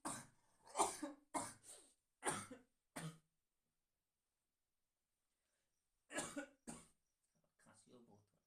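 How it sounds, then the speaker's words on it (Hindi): A person coughs repeatedly in harsh bursts, a quick cluster first, then two more coughs after a pause, with a little muffled sound at the end. "खांसी और बहुत हो रहा है, सॉरी।"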